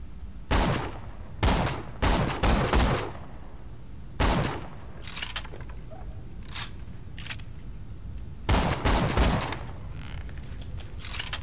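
A high-damage non-elemental sniper rifle fires in Borderlands 2. Sharp, heavy shots land in irregular bursts, with a quick cluster early on, single cracks in between and another tight group near the end, with no voices.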